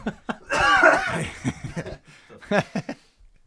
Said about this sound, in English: So you can cough